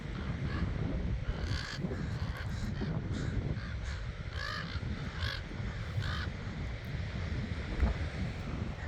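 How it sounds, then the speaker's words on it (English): Crows caw repeatedly at a distance in bursts of several calls, over steady wind buffeting the microphone outdoors. "See all these birds?"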